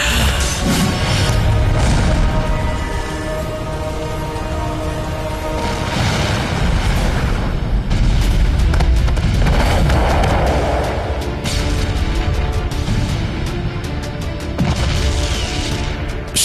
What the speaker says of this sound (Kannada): ಕೈಲಾಸದಲ್ಲಿ ಈ ಸ್ಫೋಟಕ ಸದ್ದ.